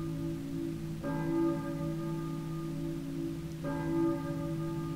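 A church bell in the Silent Hill video game tolls twice, each strike ringing out with a long humming resonance that slowly fades, heard alone over a quiet ambient drone.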